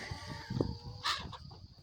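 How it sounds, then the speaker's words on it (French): Soft clucking from several chickens gathered close by on a farm in the Alps, with short irregular clucks and one brighter squawk, fairly quiet. "Réunion de poules"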